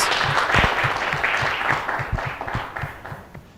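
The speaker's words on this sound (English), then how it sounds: "Let's give her a round of applause." A conference audience applauding steadily, a dense wash of clapping that holds for several seconds and tapers slightly toward the end.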